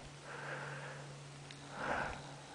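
A hunter with a cold sniffles on the last day of Oregon's hunting season: a soft nasal sniff near the start and a stronger, louder sniff near the end over a steady low hum, with no talking.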